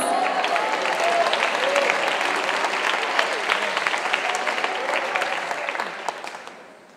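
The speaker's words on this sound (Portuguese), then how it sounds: "Aplaude Jesus." A church congregation claps together in a sustained, dense burst of applause that holds steady for several seconds before tapering off at the end.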